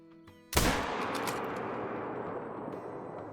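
A single sharp .22 Hornet rifle shot in the Call of the Wild hunting game, a loud sudden crack followed by a long rolling echo that fades slowly, with faint ambient tones before it.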